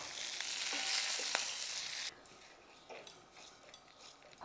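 Green chillies fry in oil in a pan while being made into an okra chutney; a bright sizzle is loud at first, then drops to a softer crackle with a few light clinks of utensils.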